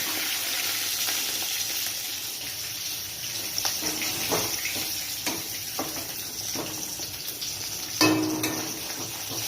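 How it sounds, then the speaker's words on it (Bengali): Fish frying in a pan of hot oil before becoming a Bengali fish curry with cauliflower and potato, a steady close hiss and sizzle with a few sharper crackles and pops, no voices. "মাছগুলো ভেজে নেব। আমার মাছ ভাজা হয়ে গেছে।"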